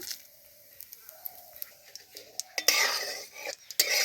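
Spices with bay leaf and panch phoron in mustard oil are stirred in a kadai, quiet scattered spoon taps and scrapes that swell into a louder sizzling rush near the end, close by with no speech.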